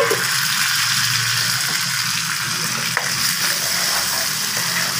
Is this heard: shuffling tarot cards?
no